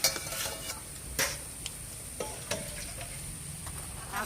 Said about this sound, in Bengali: পুঁই শাকের পাতা পাতার বড়া নামিয়ে দিচ্ছি